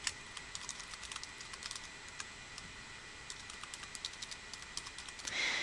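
Computer keyboard typing a username and password, a quick run of light, irregular key clicks, close and soft, with a slightly louder shuffle at the end.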